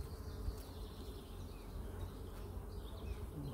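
A dense, steady buzz of many honeybees around a hive, continuous and close, with no voices.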